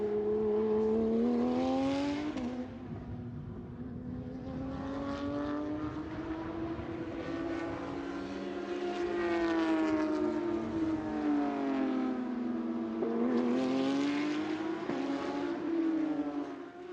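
A race car circulates on the Interlagos circuit during qualifying, a sustained engine note rising and falling in pitch as it accelerates and brakes, loud and continuous for the whole stretch with no talk.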